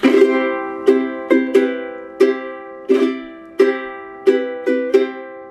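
Solo ukulele playing a jazz standard, chords strummed with the melody on top; about a dozen bright plucked strums in an unhurried rhythm, each ringing out and decaying, close and clear with no voice.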